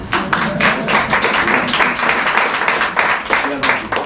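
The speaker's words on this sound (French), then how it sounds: "Je pense que ça mérite l'applaudissement, ça." Audience clapping inside a copper workshop in the Bugey, a dense, loud round of many hands with a rapid irregular rhythm, sustained for several seconds with voices mixed in.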